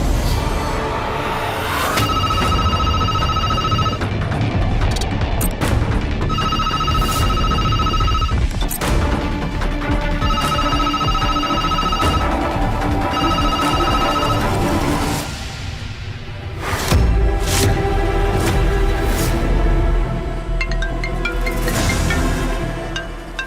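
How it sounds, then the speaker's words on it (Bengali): A mobile phone rings in repeated electronic bursts with short gaps, loud and close, over a busy dramatic background score and crashing hits, with no one talking. "নিহারের ফোন"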